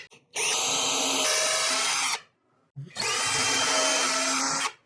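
A power drill drives lag screws to mount a LockNFlate retractable air hose reel. It runs in two sustained, loud, close bursts of about two seconds each, separated by a short pause, with no talking.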